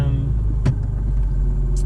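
An old, cheap Porsche 911 engine runs steadily as the car backs up, a low continuous rumble close by with a brief louder thump partway through.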